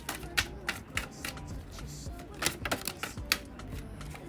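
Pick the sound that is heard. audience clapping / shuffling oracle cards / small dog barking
shuffling oracle cards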